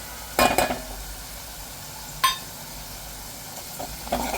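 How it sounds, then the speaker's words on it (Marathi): Onion with turmeric and chili powder being sautéed in a pan for a Konkani prawn and potato curry: a few short, faint stirring scrapes and sizzle bursts over a quiet, steady background. "आता हे छान असं परतून घ्यायचं आहे"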